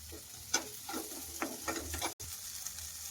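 Onion and tomato frying with a little salt in a home pan, a low steady sizzle with light spoon scrapes and taps at irregular intervals, fairly quiet and close, no talking.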